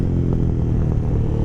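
An Aprilia Caponord 1200 motorcycle fitted with a GPR exhaust rumbles loud and close, with a low engine drone broken by rapid crackling pops.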